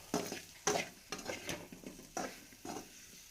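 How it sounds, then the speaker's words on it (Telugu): Drumstick masala curry fries in oil while a spoon stirs it in steady bursts, with about six close scraping strokes over a constant sizzle and no talk. "దానికి మసాలా అంతా పట్టే వరకు వేయించుకోండి."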